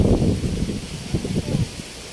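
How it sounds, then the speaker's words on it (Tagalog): Strong wind buffets the microphone in heavy, rumbling gusts over a corn field under a dark sky, a constant low roar that rises and falls without pause. "sobrang hangin po dito ngayon sa amin ho"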